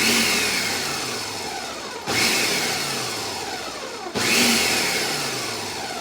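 A blender pulses pumpkin pie crust ingredients with flour and sea salt, giving three loud whirring bursts in quick succession, each starting sharply and winding down.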